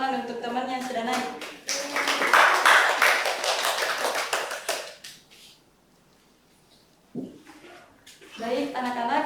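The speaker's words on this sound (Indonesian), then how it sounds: "Berikan dulu tepuk tangan untuk teman yang sudah naik." Students in a classroom clap for classmates who presented, with a few seconds of scattered clapping between stretches of a teacher and children talking, followed by a brief quiet pause.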